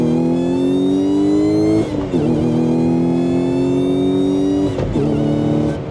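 An Audi S5 B8 accelerates hard, its engine note climbing loudly through two gears with brief dips at each upshift, close and alone.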